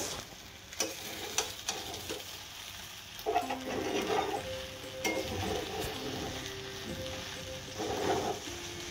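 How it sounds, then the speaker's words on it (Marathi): Sabudana khichdi is sautéed in a pan with a steady soft sizzle, broken by repeated clicks and scrapes of a spoon stirring and tapping against the metal. "खिचडी पूर्ण साबुदाणे पूर्ण ट्रान्सपरंट होईपर्यंत आपल्याला परतून घ्यायचं आहे।"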